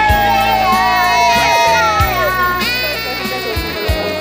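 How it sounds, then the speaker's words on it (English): Crowd cheering and shouting with children's voices at an outdoor community sports day award ceremony, loud and continuous, with music tones and scattered whoops over the whole stretch. "Again, don't forget to cheer for them."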